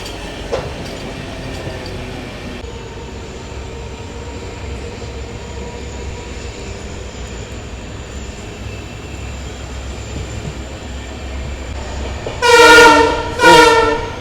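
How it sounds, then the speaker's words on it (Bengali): A diesel locomotive pulls a tourist express through the Dooars near a narrow-gauge line, a steady low rumble of wheels on the rails, then two loud, near blasts of the horn close together at the end. "একবার হংকিংটা দেখো কত সুন্দর, দেখো।"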